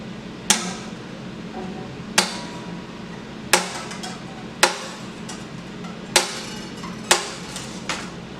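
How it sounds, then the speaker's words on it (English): Sharp metallic snips as slack acoustic guitar strings are cut one by one through the sound hole, seven or eight crisp clicks spaced about a second apart, close and clear over a quiet room. "Now we literally just go through the center of the sound hole and cut."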